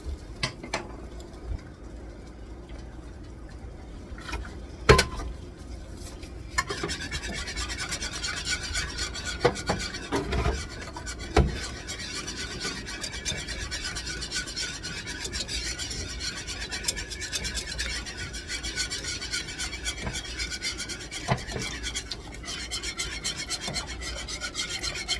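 A whisk scrapes rapidly and steadily against a pan of sauce for scalloped potatoes with ham and cheese, a continuous close rasping that runs for about twenty seconds with a few sharper clinks against the metal.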